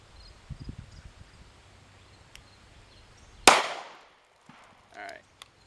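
A DoubleTap 45 Auto pocket pistol fires a single loud, sharp shot at an outdoor range, close by with a short decaying tail, after quiet handling noises and followed by faint sounds.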